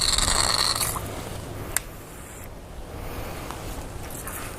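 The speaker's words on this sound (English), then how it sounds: "And I'm just slowly reeling it in." A fishing reel is slowly cranked in on a square-bill lure retrieve, making a mechanical ratcheting whir that starts loud and settles into a softer, steady grind.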